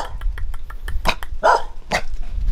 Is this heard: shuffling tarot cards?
no